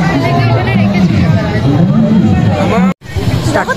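Dense crowd at a Durga Puja pandal, a loud continuous hubbub of many overlapping voices with a nearby person talking over it and a brief drop near the end.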